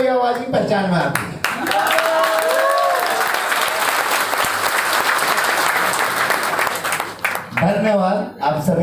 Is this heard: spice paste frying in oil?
no